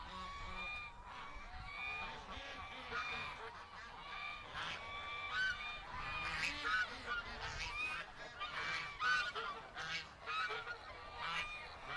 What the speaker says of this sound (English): we'll let the geese go by